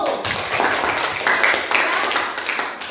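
A classroom audience claps for two students, Anggun and Ayu, after their turn; dense, steady applause fills all three seconds at close range, with no voices standing out.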